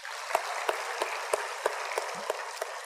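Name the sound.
church congregation applause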